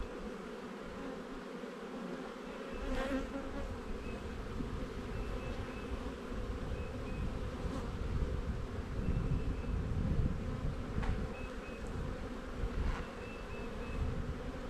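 A box of honey bees fed with sugar water hums with a dense, steady buzzing, close and continuous, with occasional individual bees droning past.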